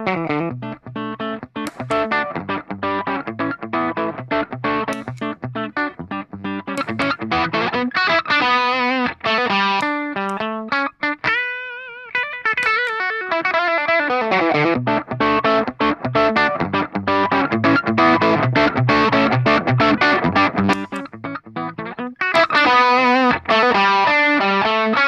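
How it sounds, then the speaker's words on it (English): An electric guitar played through Dophix Dante and Lussuria overdrive pedals, with driven, distorted chords and riffs that ring out loud and sustained, broken by a brief quieter bending phrase midway, and no speech. "now let's check the tones you can get out of the Dante and the Lussuria overdrive"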